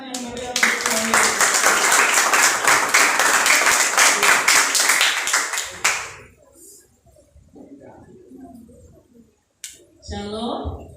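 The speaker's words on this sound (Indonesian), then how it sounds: "beri tepuk tangan yang meriah untuk kami." A burst of loud applause from a crowd at a school committee event for about six seconds, then it stops and quieter sounds and a voice follow.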